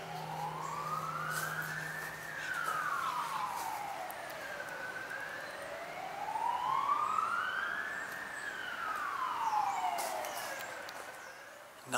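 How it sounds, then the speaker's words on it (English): A wailing emergency siren sweeps slowly up and down in long cycles outside a stone Tudor house, steady and moderately loud with no talk over it. "Nothing more annoying than sirens blaring when you're trying to film."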